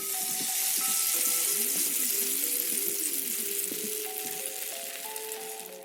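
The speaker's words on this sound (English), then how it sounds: "the soft sizzle of oil on the pan" Oil sizzling in a frying pan, a steady soft hiss with faint clinks and tonal scrapes of utensils in the background, continuous throughout without talk.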